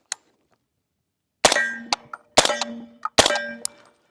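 Three sharp shots from a short-barreled 300 Blackout rifle, each followed by a ringing metallic clang from a struck steel plate, spaced about a second apart, with small trailing pings.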